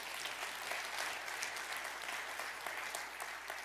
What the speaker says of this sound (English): Can you give God a hand clap this morning?